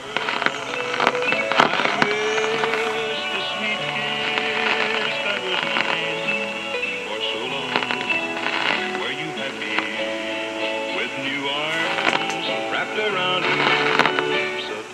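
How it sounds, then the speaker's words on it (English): Crackling static and shifting whistles and tones from a Realistic DX-160 shortwave general coverage receiver during stormy weather, a busy continuous hiss with sharp crackles and sweeping heterodyne squeals at moderate volume. "We got a lot of static in here tonight."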